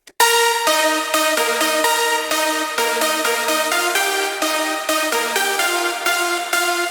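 Layered synth leads from an emotional progressive house track play a bright, chordal melody with rhythmic stabs and sustained notes at a steady tempo, loud and alone.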